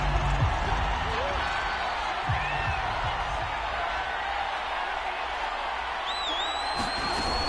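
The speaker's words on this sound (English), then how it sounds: "Plenty of shouts from this crowd as they watch the replay." A football stadium crowd at a Cardinals versus Rams game shouts and roars while watching a replay, a steady, wide wash of distant voices with occasional whistles, faint talk underneath.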